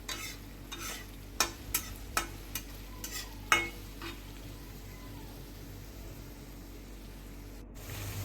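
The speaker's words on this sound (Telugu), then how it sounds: "కొంచెం సాల్ట్ వేసుకుంటే ఫాస్ట్గా ఫ్రై అయిపోద్ది బాగా గోల్డెన్ బ్రౌన్ కలర్ వచ్చినంత వరకు ఫ్రై చేసుకోవాలి" Okra pieces frying in a pan with a pinch of salt produce a quiet background sizzle, punctuated by a cluster of sharp spatula scrapes and taps early on before settling into steady frying.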